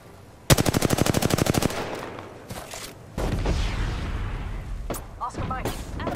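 Rapid automatic gunfire in a battle royale shooter game, a fast burst of evenly spaced loud shots followed by scattered gunshots, impacts and game effects with a sustained noisy background.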